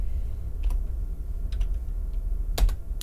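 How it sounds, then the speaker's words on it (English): A few quick key taps on a computer keyboard as a short terminal command is typed, faint clicks clustered in small groups over a steady low background hum. "First thing we're going to want to do is type ls"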